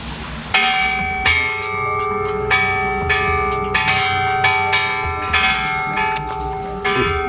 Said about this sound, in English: We are ringing the peace bell